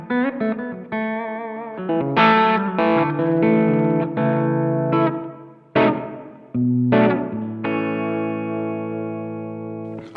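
Electric guitar played through an Origin Effects Halcyon Gold overdrive pedal on its first setting: a run of picked notes and ringing chords, mildly driven and warm, with sustained notes decaying between phrases, no voices.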